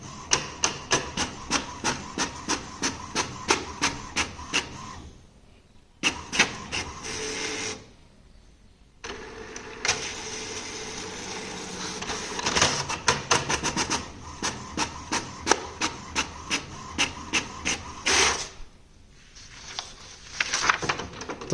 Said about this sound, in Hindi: प्रिंटर हमारा चालू हुआ और देखते हैं ये डबल साइड प्रिंट करता है कि नहीं करता है।